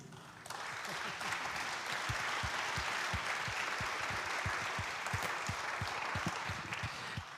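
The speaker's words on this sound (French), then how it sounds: "On peut l'applaudir." A conference audience applauds steadily for several seconds, dense clapping holding at a constant level throughout after a brief softer start, with no voices standing out.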